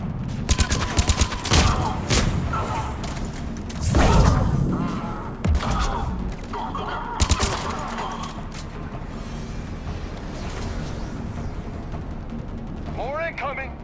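Rapid bursts of gunfire from a Mass Effect 3 firefight, crackling volleys clustered near the start and again around the middle, with heavy thuds and shouted combat voices layered through the dense noise.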